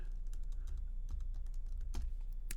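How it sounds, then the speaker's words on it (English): A password being typed on a computer keyboard, a brisk run of soft, close key clicks with uneven rhythm over a low steady hum. "type the password you wanted"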